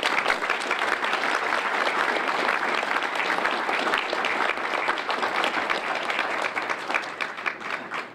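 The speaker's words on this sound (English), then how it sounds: "can you give them a round of applause?" A banquet hall audience at a church gala dinner breaks into dense, sustained applause, many hands clapping steadily at close range for about eight seconds before thinning slightly at the end.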